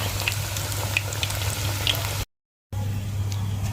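Steady crackling sizzle of crispy pork frying over a charcoal stove, continuous and close, with a low hum underneath and a brief gap of silence.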